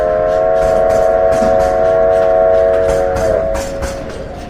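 A passenger train of the 1800s era rolls steadily on its rails, a sustained rumble with a low droning horn tone held throughout, fading slightly toward the end.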